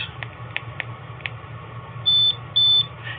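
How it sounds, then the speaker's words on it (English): A Taser Axon body camera gives two clean electronic beeps in quick succession as it starts recording, loud and close, following a few faint clicks over a low background hum. "You hear that double beep? That means that the unit is now recording."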